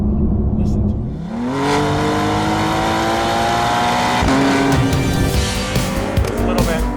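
A Porsche 911 Carrera (992.2 base model) with a full aftermarket exhaust revs up and holds a loud, rising exhaust drone, with a second surge partway through; steady and close throughout.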